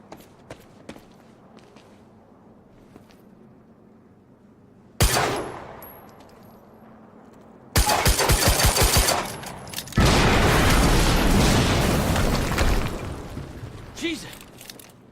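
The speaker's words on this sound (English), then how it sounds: "we just heard an explosion near the harvesting perimeter" An explosion in the video game Quantum Break: a sudden loud blast, then a quieter stretch, then a long roaring burst of rumbling debris and gunfire-like crackle, with voices heard briefly.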